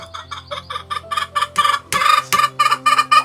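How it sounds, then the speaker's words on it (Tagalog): Chickens, Texas gamefowl raised at a grandfather's old house, cluck in a quick rhythmic series of about a dozen loud, close bursts that grow stronger toward the end, with a crowing tone mixed in. "Tanda yung manok."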